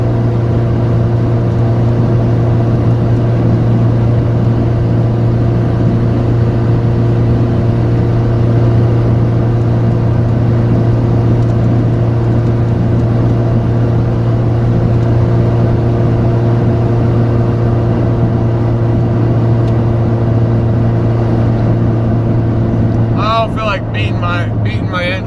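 Engine of a 1988 Honda CRX with about 350,000 miles running steadily while driving, a loud constant low drone with a strong hum, heard from inside the car, with a brief disturbance near the end.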